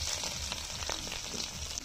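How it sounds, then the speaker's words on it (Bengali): Cauliflower florets frying in a hot wok, a steady close sizzle and crackle running continuously through the short stretch with no talking. "কড়াই গরম হয়ে গেছে, এখন দিয়ে দেবো ফুলকপি। আমি দিয়ে দিলাম কপিটা, একটু ভাজা ভাজা করে নিলাম।"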